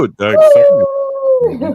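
A person imitates a wolf with one long, steady, sustained howl, close and loud, framed by brief vocal sounds just before and after.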